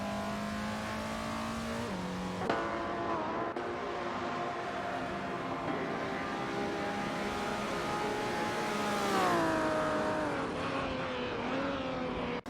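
AI supercars racing around Weatherfield Speedway in a racing game, engines roaring and revving continuously with shifting pitch as cars pass and change gear, loud and sustained throughout with no talk.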